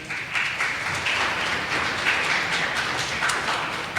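A church congregation applauds steadily for the young people in the gathering, a dense, continuous wash of many hands clapping together, fairly loud and even throughout with no voices above it.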